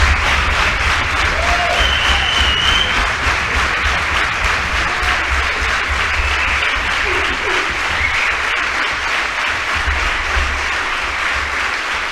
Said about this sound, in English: Please give him a warm welcome with a hand of applause.